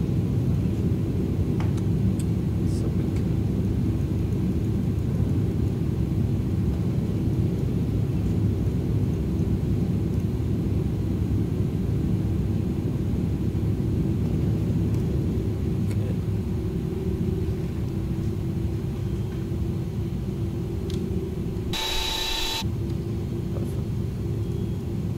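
An Airbus A310 DHL freighter taxiing in a flight simulator game gives a steady, continuous low engine rumble and drone that holds level throughout, with a brief brighter whine near the end.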